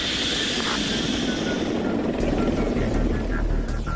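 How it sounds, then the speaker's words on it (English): A chase helicopter flies alongside an A-160 drone as it climbs to altitude, producing a steady, continuous rotor and engine drone with a few faint sharp ticks. "Shadowed by a chase helicopter, the A-160, carrying the Forester antenna, climbs to its programmed altitude for the test to begin."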